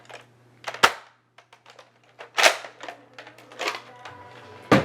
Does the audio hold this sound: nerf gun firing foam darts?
yes